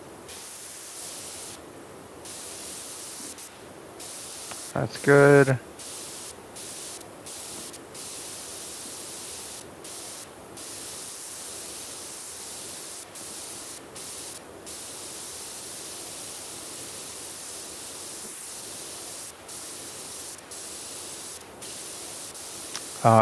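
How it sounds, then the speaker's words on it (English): Steady, soft hiss of a pressure washer spraying in the video game PowerWash Simulator 2, running almost unbroken with brief gaps and a short spoken remark partway through. "Spray some of this off here on the sides."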